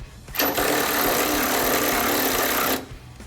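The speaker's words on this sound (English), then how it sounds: "I'm gonna use the electric ratchet here in the back 2 bolts" An electric ratchet with a 17 mm socket runs on rear bolts during a Nissan Xterra rock slider install, giving one steady, loud whir of about two and a half seconds that starts and stops sharply, with no talk over it.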